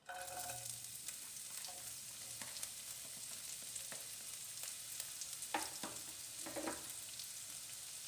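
Finely chopped onion hits hot oil with toasted cumin, giving a soft, steady sizzle with occasional stirring scrapes and crackles, fairly quiet and close, with no voices.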